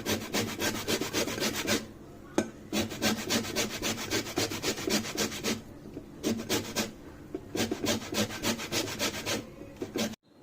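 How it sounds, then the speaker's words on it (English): An orange is rubbed against a hand grater to remove its zest, producing steady, close, rhythmic scraping strokes in three bursts separated by short pauses. "First we are going to grate this cover and extract the zest"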